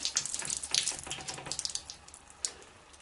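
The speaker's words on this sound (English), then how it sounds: "You can see the water is starting to flow." Water flows out of a hose in a steady splashing gush with scattered spatters, moderately loud and close, alone without talk.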